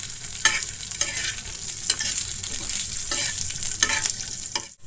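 Thecha noodles and their ingredients being stirred in a hot pan, a steady sizzle broken by repeated scraping strokes of the spoon at a relaxed, regular pace, close and clear, with no voices.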